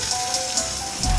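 Sauce drizzled over a rack of lamb on a grill gives a brief, steady sizzling hiss with faint crackling pops, close and continuous.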